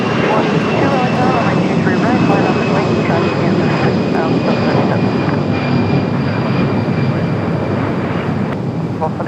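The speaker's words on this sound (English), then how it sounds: "Frontier 2980, runway 23 right, fly runway heading clear for takeoff." A Frontier airliner roars down runway 23 right at Raleigh-Durham International on takeoff, a loud, steady jet engine rumble with a rising whine that holds for the whole stretch.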